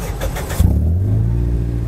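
A Toyota Vios car engine cranks briefly and catches, settling into a steady low idle close by.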